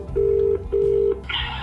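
A Vhedia 4G dongle rings for an incoming phone call: two short electronic tone bursts in quick succession, close and clear, followed by a brief noisy click.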